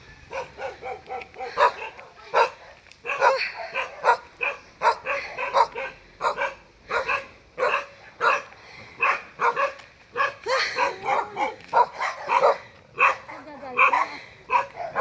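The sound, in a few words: many dogs barking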